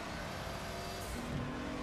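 Engine of a small Porsche race car in Project Cars 3, a steady droning hum that shifts pitch as it revs, continuous and fairly close with no talk.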